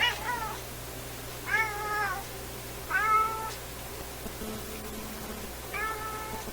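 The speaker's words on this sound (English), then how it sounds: "He's a big cat, man." A large old tabby cat meows four separate times, each short drawn-out call rising and falling, fairly close against a steady low indoor hum with no talking.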